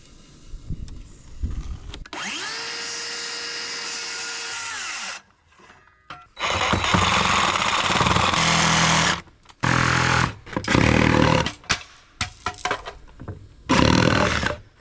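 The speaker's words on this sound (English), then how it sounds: "cut through both sides, starting with the circular saw and finishing it off with the Sawzall" Circular saw and reciprocating Sawzall cutting deck joists flush on a deck frame, loud close bursts of sawing: a long whining circular-saw cut, then several shorter rough buzzing cuts separated by brief pauses.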